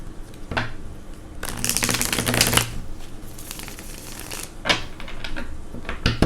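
Brisk riffling and shuffling of a tarot card deck in close bursts, with quieter pauses between shuffles and no talking.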